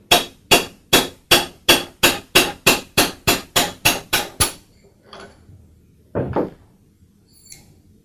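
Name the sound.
hammer tapping drill press spindle free from bearing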